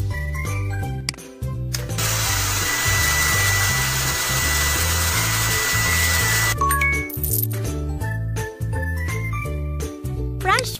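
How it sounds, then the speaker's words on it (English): A steady, loud whoosh of a hair dryer in a children's pony care video game, running for several seconds over a bouncy musical backing, with chimes and jingles before and after. "Now let's use a hair dryer."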